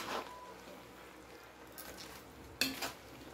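Pansit bihon rice noodles with vegetables being stirred in a pan, soft scraping and shuffling with faint sizzling and a sharp utensil clink against the pan near the end.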